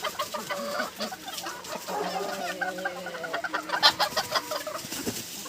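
A young rooster and a hen squabble up close, with rapid agitated clucks and squawks over steady farmyard background noise.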